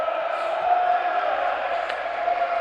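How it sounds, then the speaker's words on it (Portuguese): Crowd at an amateur football match reacting to a shot, a sustained roar of cheering and shouting from spectators, steady and fairly loud without distinct claps. "Arrancou o aplauso da galera"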